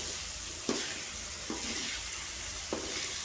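Eggplant, petai and anchovy balado stir-fried in a wok, with a steady sizzle and three distinct scraping clanks of the spatula spaced about a second apart.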